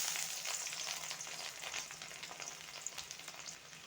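Garlic fries in hot oil with a steady, dense sizzle and crackle that stays fairly quiet and even throughout.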